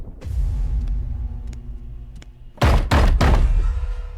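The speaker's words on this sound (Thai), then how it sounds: "แย้มอย่าเคาะขนาดนั้นสิเปิดหน่อย" Knocking in a Thai horror movie trailer: a few sparse, hollow knocks on a door, then a burst of heavy, booming thuds like pounding, over a deep rumbling score.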